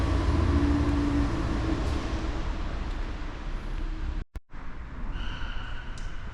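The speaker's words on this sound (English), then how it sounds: "Again, this is your Fiat Abarth motor." The engine of a 2015 Fiat 500 Abarth runs with a loud, rumbling low drone that stays close and steady. It breaks off sharply for a moment, then resumes at a slightly lighter idle.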